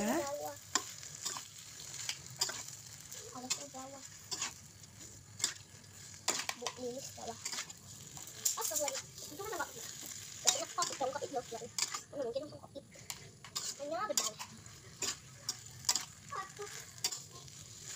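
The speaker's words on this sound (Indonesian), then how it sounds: "Kemudian masukkan bihun. Aduk sampai tercampur merata." Rice vermicelli being stirred as it fries in a pan for bihun goreng, with a steady low sizzle broken by repeated scraping strokes of a spatula over about eighteen seconds, close and moderately loud.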